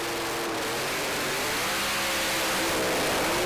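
The Acme Composite Supply Mustang, a Pro Slammer drag racing car, launching down the lane in qualifying: a loud, sustained engine roar whose pitch climbs steadily, heard up close with nothing else over it.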